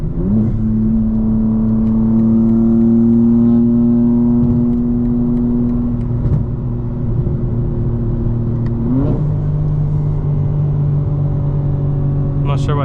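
A modified 2025 BMW M4 Competition xDrive, heard from inside, drones loudly with a steady engine tone that shifts pitch around each gear change, including a sharp rev jump partway through, with no talk over it.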